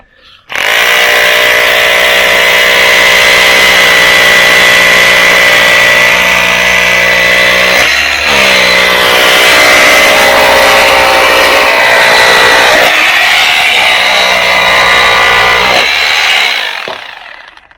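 A hammer drill bores holes into ground beside a wooden form so pins can be driven in, a loud, sustained mechanical whine and rattle running near-continuously for about sixteen seconds with two brief dips.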